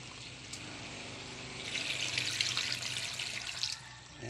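Water pours into a boiling pot of chicken feet, a soft, steady rushing splash that swells in the middle and then eases off, heard close with no talking.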